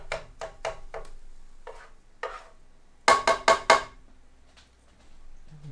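Scrambled eggs in a frying pan are pushed around with a utensil, giving a string of quick, distinct scrapes and taps, a few early and a tight cluster of louder ones later, with faint background between and no voices.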